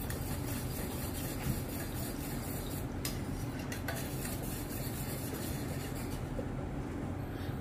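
Gram flour (besan) being whisked into curd in a bowl, a steady continuous scraping and sloshing stir with faint utensil clicks against the container, close and even throughout, no voices.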